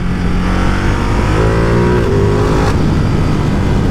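A Ducati Multistrada 950S motorcycle engine with only its original exhaust tip fitted runs steadily and loudly, with rising harmonic tones as it revs up midway, no talking.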